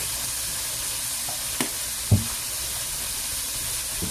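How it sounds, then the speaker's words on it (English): Garlic sizzles steadily in a hot pan over a medium flame, a constant close hiss with a couple of soft knocks from stirring. "We're going to get a nice saute on there."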